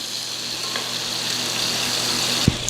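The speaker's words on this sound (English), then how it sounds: "these 2 can join the pan. Get them nice and brown and golden and delicious." Sausage meat browning in a frying pan produces a continuous moderate sizzle and crackle, with a single sharp clink near the end and no talking.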